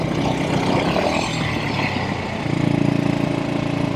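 A classic Velocette Venom Clubman 500 single-cylinder motorcycle runs under way in second gear, its engine note loud, steady and close, with a rhythmic pulsing that firms up toward the end.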